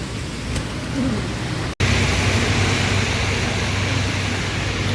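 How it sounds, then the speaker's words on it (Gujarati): Rain falls beside a wet road at a roadside tea stall, a loud, steady, close hiss that thickens after a short break and continues unbroken to the end. "વરસાદ અંદાઈ રહ્યો છે ને જો ભાઈ શરૂ થઈ ગયો છે ફૂલ"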